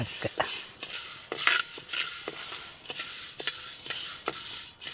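Green gram being dry-roasted and stirred in a pan on the stove for a dal payasam, giving a rhythmic series of close scraping and rattling strokes as the beans shift against the metal.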